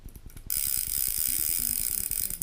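A spinning fishing reel's drag clicks in a rapid, even ratchet, close up and steady, with a sharp hissy rush joining partway through as line runs.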